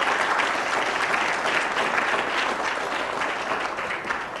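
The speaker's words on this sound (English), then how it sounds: "please join me in applauding the Circle K Club" An audience at a city council meeting applauds a college service club, a thick, even burst of clapping that stays strong and slowly eases toward the end.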